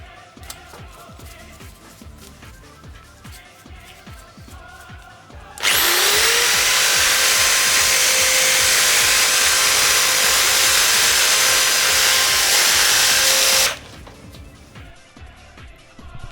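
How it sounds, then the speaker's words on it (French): Power drill boring holes in a cleaned, sanded aluminium motorcycle crankcase from a chain-damaged motocross bike, a single loud continuous high whine lasting about eight seconds after quiet workshop background, then stopping abruptly. "Perçage des trous qui vont servir à centrer les colonnettes."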